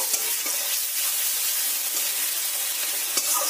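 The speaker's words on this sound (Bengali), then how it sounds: "এবার বেটে রাখা পেঁয়াজগুলো এতে দিয়ে দেব। পেঁয়াজ ভালো করে লাল লাল করে ভেজে নেব।" Ground onion paste fries in hot oil with a bay leaf and a dried chilli, giving a steady, close, bright sizzle with soft stirring scrapes and no talk.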